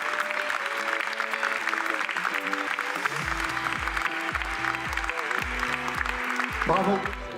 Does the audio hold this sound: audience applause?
yes